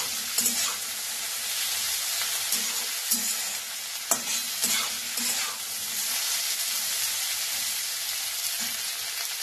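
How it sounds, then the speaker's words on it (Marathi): Okra (bhendi) being stir-fried in oil for masala bhendi, a continuous close sizzle broken by repeated scraping and clattering strokes of a spatula against the pan. "ही चांगली आता भेंडी भाजून घ्यायची"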